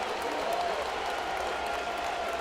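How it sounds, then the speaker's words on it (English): Baseball crowd at Safeco Field in Seattle during a Mariners perfect game, a steady wash of cheering and applause filling the ballpark, continuous and dense with no single voice standing out. "Crowd loving it here at Safeco Field."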